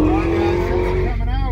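A Dodge Hellcat drifting at a car auction gives off a sustained, high tire squeal over engine noise, fading and wavering near the end as voices talk over it.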